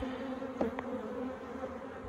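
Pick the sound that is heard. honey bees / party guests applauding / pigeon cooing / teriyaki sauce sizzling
honey bees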